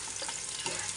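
Onions and garlic sautéing in a pan for pancit bihon, a brief steady hiss of sizzling oil, fairly close and even, with no talking.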